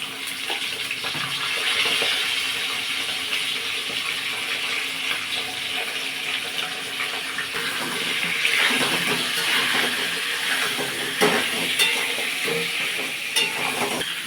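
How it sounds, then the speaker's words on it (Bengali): Carrots and potatoes frying in hot oil in a wok, a steady broad sizzle with watery crackle running throughout, close and fairly loud, with occasional sharper pops and clinks toward the end. "তেলটা গরম হয়ে গেছে, গাজর আর আলুগুলো একটু ভেজে নেব"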